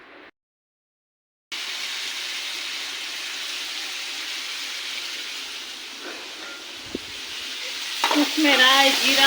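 Mustard seeds and cumin hit hot oil for tempering, giving a steady, close sizzle after a short silent gap, with sharper crackling and popping swelling near the end.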